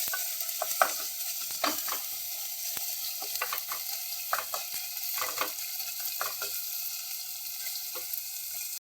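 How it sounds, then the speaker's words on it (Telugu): Mushrooms frying in a pan with ginger garlic paste for a mushroom curry, a steady hiss with frequent sharp spatula scrapes and taps against the pan, close and unaccompanied by speech. "ఇది కొంచెం పచ్చివాసన పోయిన తర్వాత మష్రూమ్స్ వేసుకున్నామండి"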